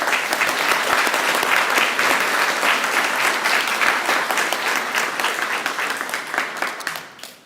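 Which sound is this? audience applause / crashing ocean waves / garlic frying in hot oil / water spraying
audience applause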